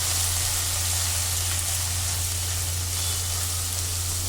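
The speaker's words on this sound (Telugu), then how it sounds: "టమాటాలను మెత్తబడే వరకు కూడా వేగనిద్దాము" Chopped tomatoes fry in a pan for gongura chitti royala curry, a loud, constant close-up sizzle with a low steady hum beneath it and no talking.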